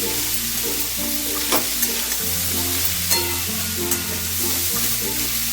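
Pumpkin pieces fry over a high gas flame, a dense, continuous sizzle with a steady low hum beneath and a few faint stirring clicks; no voices.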